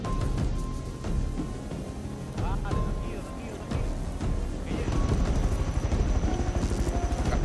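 Steady whirring rotor drone of a helicopter in the video game Rust, loud and continuous throughout, with a thin engine whine and occasional thumps layered over it.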